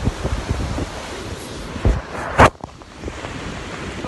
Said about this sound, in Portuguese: Então, chove mesmo.